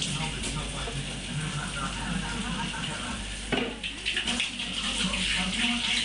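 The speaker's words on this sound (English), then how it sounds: "quickly give the hands another quick wash" Hands being washed under a steadily running kitchen tap while cooking a sausage casserole, with a constant splashing rush of water and a brief disturbance midway as the hands move through the stream.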